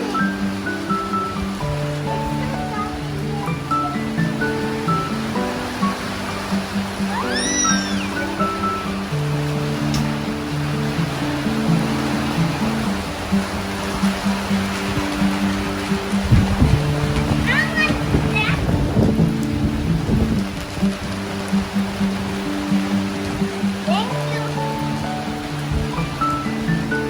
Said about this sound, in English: Stop raining.